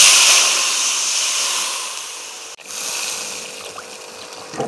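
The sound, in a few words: water poured into pan for fish curry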